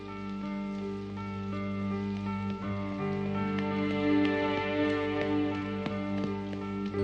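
Rain falls in a continuous pattering wash over a sustained tonal musical bed, moderately loud with no speech.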